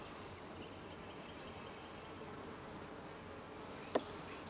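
Honey bees buzzing around an open beehive while it is checked for comb in the honey super, a steady dense outdoor drone with a faint whine, one brief sharp knock near the end.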